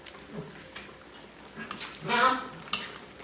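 Chicken sinigang stirred in a pot, scraping and clinking of a utensil with liquid swishing, close, several short strokes with a louder burst near the end, and a voice speaking in between.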